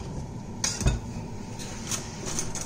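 A knife slices ingredients for a pork satay side dish, giving a few light, close taps and clinks against the board over a soft background hum.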